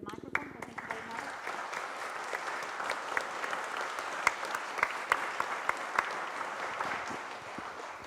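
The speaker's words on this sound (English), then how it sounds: "So I would like to thank you by clapping rather than I can't do with the microphone" Audience applause at the close of a lecture on treating affective disorders, a sustained, moderately distant patter of many hands with a few sharper individual claps standing out.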